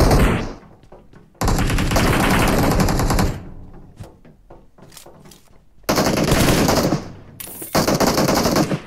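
Automatic weapon fire from PUBG Mobile rips out in long, loud, close bursts separated by quieter gaps with scattered single shots, and no talking is heard over it.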